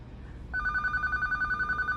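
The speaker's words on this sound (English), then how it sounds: "That's my landline." A red landline telephone starts ringing about halfway through, a loud, close electronic trill pulsing in quick even bursts after a brief low room hum.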